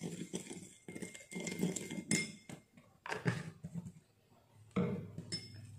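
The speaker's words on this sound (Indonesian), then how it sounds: "Kemudian 3 bahan ini kita aduk-aduk." Coconut oil and two other kitchen ingredients being stirred together in a bowl for a homemade skincare mix, with close, irregular clinks and scrapes of a spoon against the dish.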